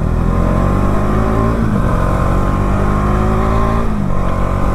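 Bajaj Dominar 400 motorcycle engine pulling hard at around 100 km/h, a loud steady droning roar with strong low harmonics and brief dips in pitch as the throttle is worked, heard up close with wind noise.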